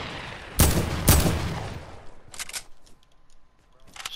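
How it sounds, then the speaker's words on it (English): Video game gunshots: two sharp, loud shots close together, then a few fainter distant cracks trailing off and one more shot at the end, with quiet gaps between. "Someone just shot me out"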